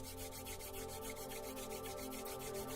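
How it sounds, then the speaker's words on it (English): Hands rub together briskly and close up, a steady rhythmic swishing friction repeating several times per second, faint and alone. "Now I want you to take your hands and rub them together."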